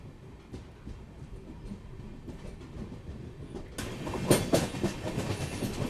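A Mangaluru to Goa passenger train runs along coastal Karnataka tracks, its steady rumble building to louder clattering and wheel clacks in the second half, close and without voices.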